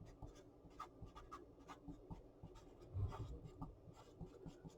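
Pen or pencil writing on a paper worksheet, a faint, steady scratching with short strokes and small pauses, heard close up in a quiet room.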